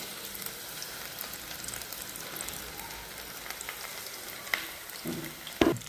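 Hot oil in a handled kadhai for frying carrot and pea vegetable nuggets gives off a steady, moderately faint sizzling hiss throughout, with a couple of brief clinks near the end.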